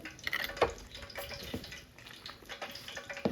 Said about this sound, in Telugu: ఇప్పుడు కొన్ని వాటర్ వేసుకున్నామండి